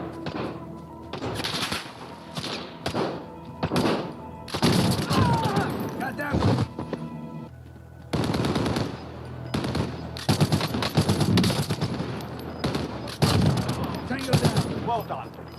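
Warzone video game gunfire: repeated bursts of automatic fire and single shots, moderately loud with short gaps between volleys, and a voice talking over the fighting.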